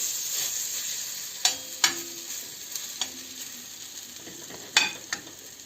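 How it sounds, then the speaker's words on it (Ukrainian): Hot oil crackles and sizzles under a hiss, broken by several sharp pops and spits spread unevenly across the stretch, as zucchini and meat fritters fry in a pan. "викладаємо на сковорідку з розігрітою олією"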